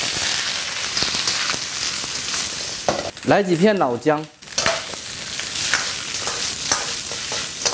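Chicken pieces fry in a wok of rapeseed oil for a Jiangxi-style dish, giving a loud, steady sizzle throughout, with a person briefly speaking midway.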